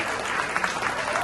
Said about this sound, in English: So we want to give Pete a big round of applause for keeping things together and doing the ri